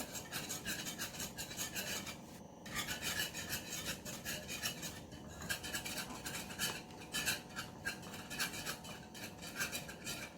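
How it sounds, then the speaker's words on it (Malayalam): A whisk scrapes and rasps steadily around a bowl of thalbeenah mixture, a continuous close gritty rubbing with brief pauses, working out lumps; no voices. "കട്ട കട്ടാതിരിക്കാൻ വേണ്ടി വിസ്ക് ഉപയോഗിച്ച് നല്ലോണം മിക്സ് ചെയ്ത് കൊടുക്കുക"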